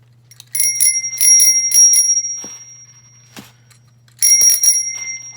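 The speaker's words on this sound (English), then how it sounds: "And then we bless it with a bell." A bicycle bell rings in quick repeated bursts, loud and close, then pauses and rings again in another short flurry.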